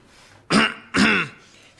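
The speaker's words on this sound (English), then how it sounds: "Just a cough." Two harsh throat-clearing coughs come in quick succession in a radio comedy sketch, close and loud, with a quiet pause before and after.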